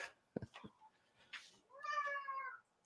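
A few soft clicks and rustles, then a single drawn-out cat meow, fairly close and quiet.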